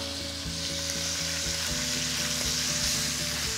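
Vegetables fry in a hot pan with butter and caramelized beef drippings for beef bourguignon, giving a loud, continuous sizzle with no talking.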